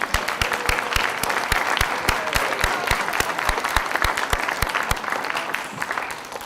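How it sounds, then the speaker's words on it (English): Steady applause from a crowd, dense clapping throughout with a few sharp, distinct claps standing out, sustained at an even level for several seconds. "If the students here can give your parents a round of applause, I'd greatly appreciate it."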